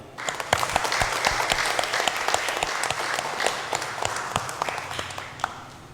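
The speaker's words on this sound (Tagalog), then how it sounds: "Ati pong bigyan ng napakalakas na palakpak ang ating Panginoong" A congregation applauds loudly at a Tagalog Easter Vigil Mass, a dense, sustained wash of many hands clapping with sharp individual claps standing out, steady throughout.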